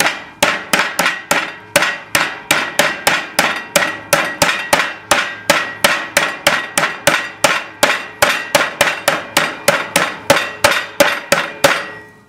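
A meat mallet pounding a turkey cutlet for paillard, a steady fast run of sharp, loud, clanking blows about two per second, continuing evenly for several seconds with no talking.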